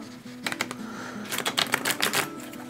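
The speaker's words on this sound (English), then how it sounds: "I'm just going to shuffle it." Two quick bursts of crisp, fluttering riffles from cards being shuffled, close up, with a brief pause between them.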